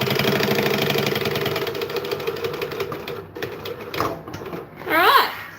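Home sewing machine stitching fabric from the opposite direction, a fast steady mechanical chatter for about three seconds before it stops, followed by clicks and a short burst of fabric handling close by.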